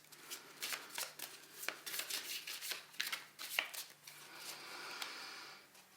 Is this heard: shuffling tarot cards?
yes